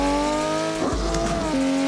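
Ken Block's Hoonipigasus Porsche race car in Assetto Corsa, its engine a loud steady buzzing drone with a brief shift or lift in pitch midway, tire noise blending in, close and continuous.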